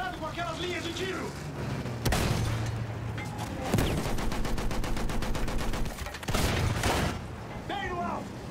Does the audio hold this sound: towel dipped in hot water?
no